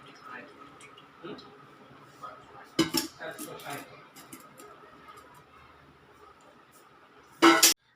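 A metal frying pan clanks and rattles as it is set on a gas stove, a few scattered knocks with a louder clatter near the end, while someone talks.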